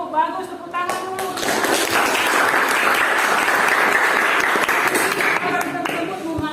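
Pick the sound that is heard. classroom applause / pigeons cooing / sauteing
classroom applause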